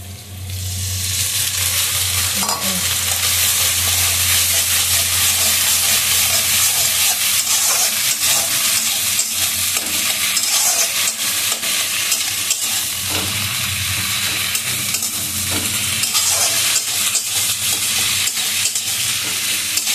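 Garlic and egg being sautéed in a pan, a loud, continuous sizzle and hiss with repeated scraping stir strokes of a spatula across the pan throughout.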